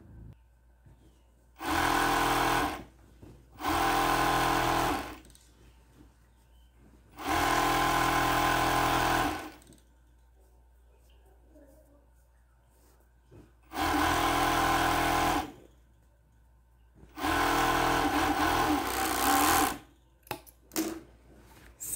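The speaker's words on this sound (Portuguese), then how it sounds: "a gente vai continuar aqui no overlock" An overlock sewing machine stitches dress seams in loud, even bursts of a few seconds each, five runs separated by quiet pauses, with a final short stutter of stitching near the end.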